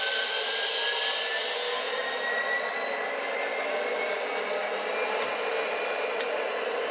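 A model Southern Pacific GP40X diesel locomotive with a LokSound 5 decoder hums and whines steadily with its brake released, the pitch slowly rising as it moves off, alone and continuous.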